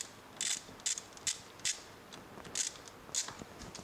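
Ratchet wrench loosening a bolt on an Audi R8 V8 engine, several short bursts of rapid clicking repeated at a steady pace, close and fairly crisp, with no talking.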